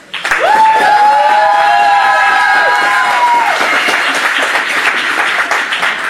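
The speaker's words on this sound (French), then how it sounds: "On peut les applaudir." Wedding guests applaud and cheer the newlyweds at a civil ceremony in a French town hall, a full burst of dense clapping with a few whoops that stays steady throughout, close and loud.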